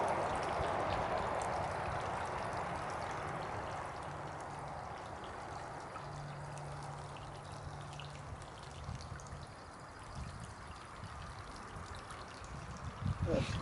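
Water pours steadily from a running tap into a bioreactor water tray used for soaking shredded leaves, a continuous splashing stream that softens slightly as the tray fills, with faint talk at times.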